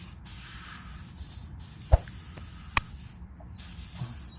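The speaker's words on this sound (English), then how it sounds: "Just spray it up" A penetrating lubricant aerosol can sprays onto the rear strut area of a 2003 Nissan Maxima in a short, steady hiss, close up, with a couple of sharp clicks from the nozzle or tools.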